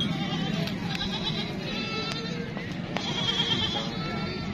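A goat at a livestock market bleats several times, its cries standing out over a steady murmur of the crowd and background voices.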